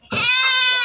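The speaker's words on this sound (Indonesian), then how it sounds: "Kambing jumbo." A goat at a sacrificial livestock market gives a single loud, close, quavering bleat lasting under a second.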